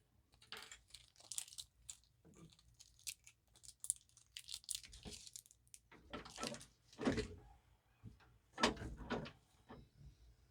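Paper pulled out of an HP DesignJet T210 24-inch large-format printer, with scattered close rustles, crinkles and sliding scrapes coming in bursts over about ten seconds, mostly in quiet surroundings.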